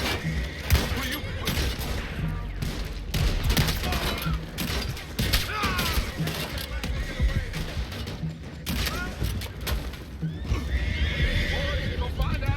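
Horses whinny and neigh amid hooves, shouting and scattered gunfire in a busy video game action scene, with voices throughout.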